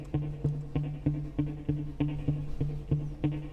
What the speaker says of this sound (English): I decided to add a muted guitar patch